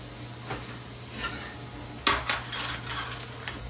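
Quiet metallic clinks and taps as a hand mixer and its beaters are handled and set down, a few light knocks spread over a few seconds, with no talking.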